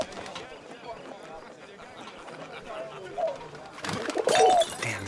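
A pigeon coos and flutters close by in the video game 11-11: Memories Retold, low calls coming in brief bursts over a quiet background before a louder rustle of wings near the end.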